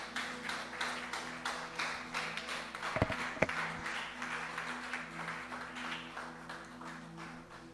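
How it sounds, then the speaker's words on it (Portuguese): Church congregation standing and applauding for Jesus, a steady wash of many hands clapping that carries on for several seconds, fairly faint, with two sharper knocks partway through. "Pode dar uma bela salva de palmas para o Senhor Jesus?"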